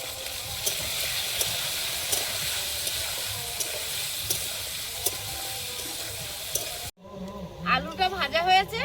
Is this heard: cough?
no